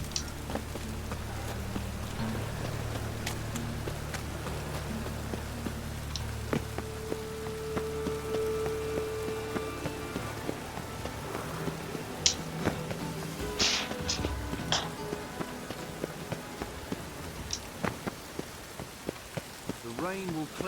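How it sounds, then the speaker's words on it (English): Steady rain falls on city streets in The Witcher 3: Wild Hunt, a constant patter of drops on surfaces with scattered sharper taps, faint and even throughout, with a few distant voices now and then. "The rain will cleanse the city's streets of filth"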